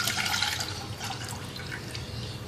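Liquid tamarind pulp pours and splashes into a pan on the stove for a tamarind mint chutney, a soft, close wet trickle lasting a couple of seconds with no voices.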